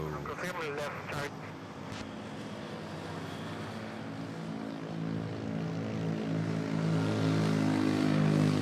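An Airbus A320 arriving from Dumaguete lands at Manila Airport: a rising engine roar with droning tonal whines swells steadily louder, with faint voices underneath early on.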